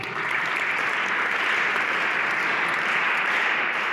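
A crowd at a public gathering gives steady, sustained applause, a dense even wash of clapping that holds at a constant level throughout, with no talking over it.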